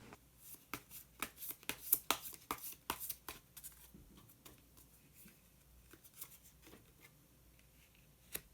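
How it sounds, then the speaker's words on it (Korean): Tarot cards are shuffled and one card is drawn, giving a fast run of soft crisp riffling snaps that thins into sparser quiet flicks and slides, close and fairly faint, with no talking. "그러면 마지막으로 마법사 카드 한 장 더 뽑아보도록 하겠습니다."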